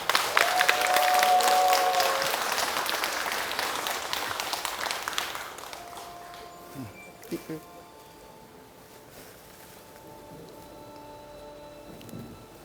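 An audience claps loudly to welcome a lecturer, sustained applause for about five seconds that then fades into a quieter room with scattered small sounds and a few faint voices.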